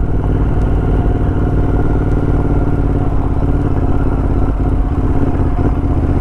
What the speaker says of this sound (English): Now this is the first ride of riding the bike after installing it.